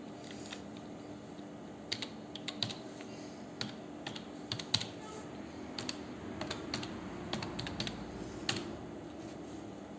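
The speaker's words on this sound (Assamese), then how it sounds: "ইয়াতে আপুনি এপ্লিকেশ্যন নম্বৰটো টাইপ কৰিব" Fingers type an application number on a computer keyboard, a steady run of light key clicks with sharper louder taps scattered through, close by over a faint room hum, no talking.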